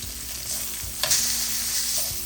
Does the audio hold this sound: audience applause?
no